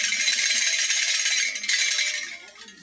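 A priesthood staff of the Amadioha deity rattles steadily as it is moved, a dense, continuous shimmering jangle up close that holds strong before thinning and fading toward the end, with no voices.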